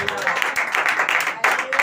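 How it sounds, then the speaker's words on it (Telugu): A church congregation claps together at the pastor's request during a Telugu sermon, a dense, steady burst of many hands lasting under two seconds with a short swell near the end. "చప్పట్లు కొట్టండి ఒకసారి"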